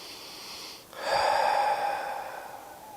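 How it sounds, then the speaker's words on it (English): A single deep breath is taken and let out through the mouth during a slow hatha yoga flow, a soft airy exhale lasting about two seconds, close and quiet. "Take a nice big inhale through your nose and exhale out your mouth."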